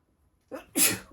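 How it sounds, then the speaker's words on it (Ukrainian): A single sharp sneeze, preceded by a short intake of breath, close and loud against a quiet background. "зараз я чихну"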